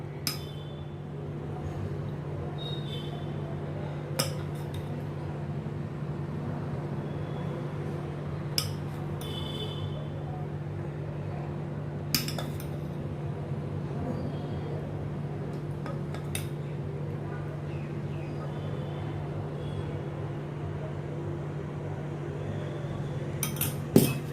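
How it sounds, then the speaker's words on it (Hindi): A spoon clinks now and then against greased metal idli molds while batter is poured in, with a steady low hum underneath and sparse, close metallic taps at irregular intervals. "अभी इन सभी मोल्ड में मैं ये बैटर डालती हूँ"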